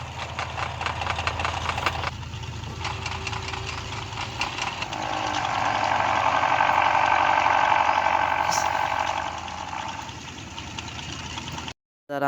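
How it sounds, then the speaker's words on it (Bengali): Motorbike engine in GTA 5 ridden through the game's streets, a steady mid-pitched drone that swells and revs louder in the middle, then settles before cutting out near the end; no talking. "বাইক চালাচ্ছে কত সুন্দর করে।"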